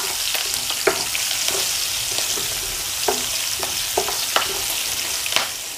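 Slit green chillies frying in hot oil over a low-to-medium flame for Nagpur-style poha chivda, a constant loud sizzle broken by scattered sharp clicks and scrapes of stirring.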